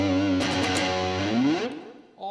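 An electric guitar heavily overdriven through a TC Electronic MojoMojo Paul Gilbert signature overdrive pedal rings out with thick, sustained distorted chords, then cuts off briefly before another note starts.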